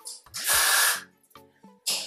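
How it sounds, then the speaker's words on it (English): Hiss of Cauteee spray misted onto the lace of a curly T-part wig, one long near burst of about half a second between quieter handling sounds, then a second burst starting at the end. "I'm gonna go in with the Cauteee, spray it on the lace here"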